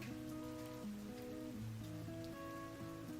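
Rain falls outside a small, quiet bookshop. A steady, soft patter continues throughout under gentle sustained musical tones, with no talk.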